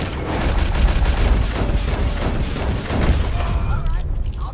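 Gunshots in a Western open-world game, a dense rolling volley of shots and booms close by that goes on throughout, with voices talking over it.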